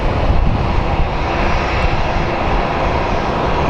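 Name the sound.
airliner at Phoenix Sky Harbor airport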